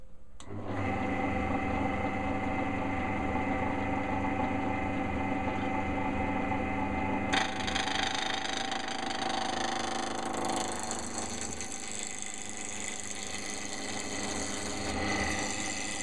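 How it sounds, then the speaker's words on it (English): A wood lathe spins up and roughs down a turning blank, a steady loud motor hum with a continuous gritty cutting hiss that grows brighter as the gouge bites, close and without talk. "So visor down, turn the machine on, and then we'll get going."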